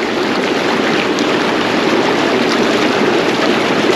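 Steady, loud rush of churning water from the bubbling jets of an Intex PureSpa Greywood Deluxe hot tub, a dense continuous hiss and burble that holds unchanged, close up, with no talk.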